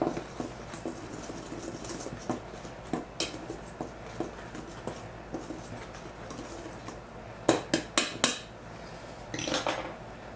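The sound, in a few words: mixing dry ingredients for gluten-free rice flour sourdough bread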